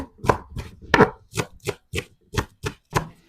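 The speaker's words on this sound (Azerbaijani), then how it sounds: "Çalışırıq ki, biraz xırda doğrayaq göyərtilərimizi." Knife finely chopping green herbs on a board, about ten distinct, evenly spaced close-up chops with no talking.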